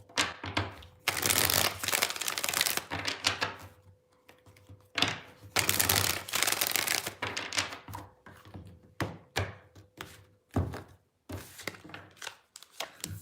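Tarot cards are shuffled close by in repeated bursts of riffling and slapping, with brief pauses and soft thunks between rounds. No one talks.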